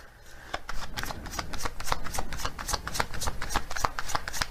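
Oracle cards being shuffled, a rapid run of crisp riffling clicks and flutters repeating irregularly, close and fairly loud, with no voices.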